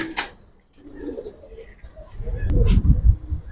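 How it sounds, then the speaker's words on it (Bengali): A pigeon coos nearby in a low, rolling murmur that swells toward the end, with a short sharp call at the start. "দেখেন এই যে নামতাছে কবুতর"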